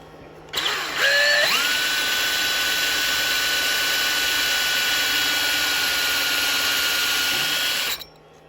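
A power drill bores a hole in a wooden birdhouse, spinning up sharply and then holding a steady, loud whine for about seven seconds before stopping abruptly, close by and with no voices.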